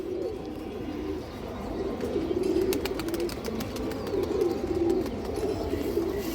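A restless, agitated pigeon of an old bloodline with black tail feathers is handled, giving steady low cooing and soft fluttering against a background of other birds. Several brief rustles and clicks are scattered through it, and the sound is fairly close and moderate in level.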